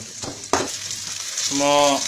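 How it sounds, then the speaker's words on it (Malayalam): Curry leaves sizzle and crackle in hot oil in a pan while being stirred, a loud close frying hiss with a couple of sharp scraping strokes and a brief tonal hum near the end. "വേപ്പില നന്നായി മൂക്കുന്ന വരെ നമുക്ക് ഇളക്കിക്കൊണ്ടിരിക്കാം"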